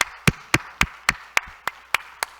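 A church congregation claps hands in welcome for a new member's arrival, nine sharp, evenly spaced claps in a steady rhythm, loud and close in a quiet room.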